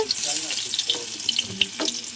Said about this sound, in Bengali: বেগুনগুলো আমরা দিয়ে ভালো করে ভেজে নেবো